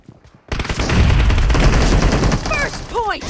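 Rapid bursts of automatic gunfire in a PUBG team deathmatch, loud and close after a brief quiet start, with a short voice underneath and whistling ricochet-like tones near the end.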